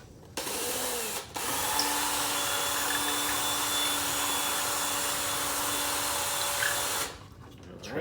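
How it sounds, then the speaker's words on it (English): A power drill whirs steadily while boring out a small hole in a window blind, close and loud, starting and stopping with a brief pause near the start. "All right, we're gonna drill out a little bit more."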